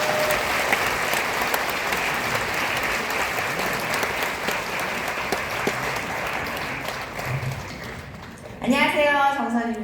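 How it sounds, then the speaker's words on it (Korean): A large church audience applauds to welcome a guest speaker, warm sustained clapping that fills the hall for several seconds and then gives way to an amplified voice speaking over the PA. "박수로 모시도록 하겠습니다"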